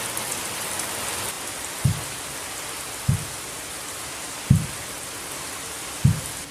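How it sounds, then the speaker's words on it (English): Spring rain in Texas falls steadily in a soft, even hiss, with four low dull thumps spaced about a second and a half apart standing out from the wash. "even more rain."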